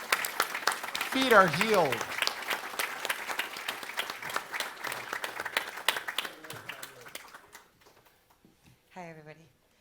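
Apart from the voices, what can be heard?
audience round of applause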